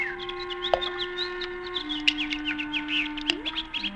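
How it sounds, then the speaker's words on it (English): In a 1950 radio drama, several birds chirp and tweet by a fish pond in quick, overlapping bursts over a steady background hum, with a few louder calls standing out near and clear. "Oh, birds playing in the fish pond."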